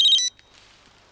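A mobile phone rings with a short, bright electronic tone that cuts off after a fraction of a second, leaving near silence behind.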